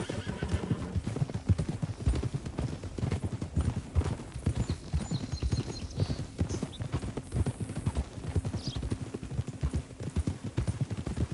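Horse hooves clip-clop steadily and a horse neighs in Red Dead Redemption 2, the rhythmic footfalls close and continuous throughout with faint ambient game sounds behind.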